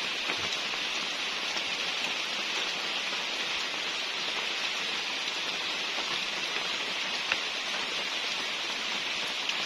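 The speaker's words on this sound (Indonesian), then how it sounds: "Udah hujan." Steady rain falls at night after dark in a rural treehouse setting, a dense even hiss of drops on surfaces with occasional louder individual patters, continuous and unbroken throughout.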